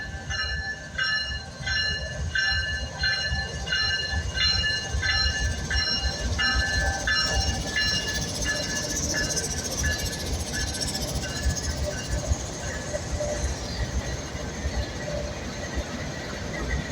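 Freight train hauled by BNSF GE Evolution Series (GEVO) locomotives rolling past at sunset, a steady loud rumble of wheels and cars with repeated high metallic squeals and ringing tones throughout, no talking.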